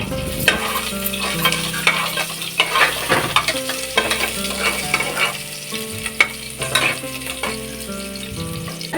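Onions fry in oil inside a pressure cooker for chicken sambar, a close sizzle punctuated by frequent clattering scrapes of stirring, with steady background music underneath.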